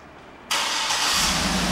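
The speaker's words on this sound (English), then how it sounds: "and the car starts right up." A 2011 Cadillac Escalade ESV engine suddenly cranks by remote start and catches, settling into a steady, loud idle close by.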